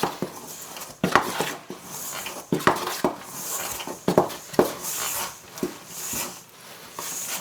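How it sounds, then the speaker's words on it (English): A spoon stirs a thick sourdough bread mixture in a bowl, making a series of irregular scraping knocks and clunks against the bowl's sides, close up, with no talking. "I'm just going to stir this up"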